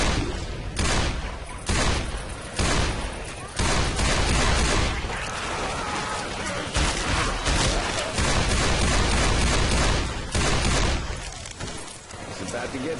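Gunfire in the Left 4 Dead 2 video game comes as dense, loud bursts of repeated shots and blasts that nearly fill the span, with brief gaps between volleys and voices mixed in.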